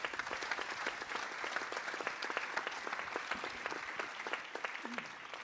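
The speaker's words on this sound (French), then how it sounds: "je crois qu'on peut encore les applaudir" Audience at a wine film festival event applauding the award winners, a lively crowd of many hands clapping in rapid, steady bursts, moderately close and sustained throughout.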